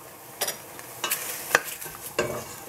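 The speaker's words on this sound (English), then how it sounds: "And then putting back in the pasta." Drained pasta with vegetables being tipped back into a cooking pot, heard as a few brief, soft clattering and scraping bursts spaced apart against a quiet background.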